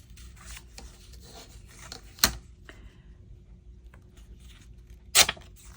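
Paper edges are roughened with soft rubbing and scraping for a journal page, broken by two sharp, sudden tearing rips, close-up in a quiet room.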